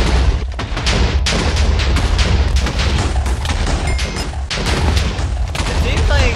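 Loud, dense explosions in Minecraft rumble and crash almost without pause, near and overwhelming, with booming low-end impacts throughout.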